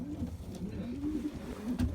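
A racing pigeon coos softly nearby in a low, continuous rolling murmur, with a couple of faint clicks near the end and no voices.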